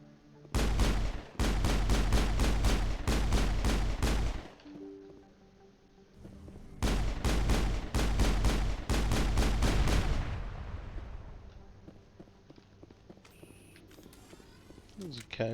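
Gunfire on the Citadel in Mass Effect comes as two long strings of rapid, evenly spaced shots, loud and close, separated by a brief lull, then fading into ambience.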